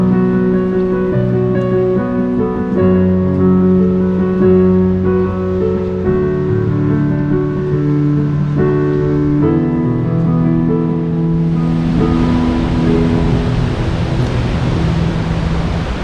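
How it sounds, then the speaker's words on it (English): Ocean waves breaking on the main beach of Stradbroke Island, a steady broad wash of surf that swells louder toward the end, heard alone with no talk. "I'm just gonna hang out and watch some waves for a while"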